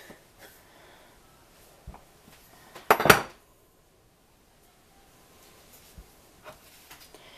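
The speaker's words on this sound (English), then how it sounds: "let me grab a knife here, and I just cut it into fourths" A knife slicing through rolled-out homemade noodle dough on a work surface, one brief clattering cut near the middle amid an otherwise quiet room with a few faint taps.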